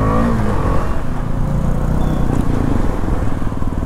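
Royal Enfield Meteor 350 motorcycle pulling away from a traffic signal in midday street traffic, with a loud, continuous engine roar rising as it revs and accelerates close by.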